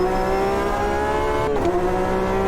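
A steady, high-revving race car engine in the video game Automobilista 2 drones continuously, with a brief dip in pitch partway through as if shifting gear.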